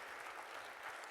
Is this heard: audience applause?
yes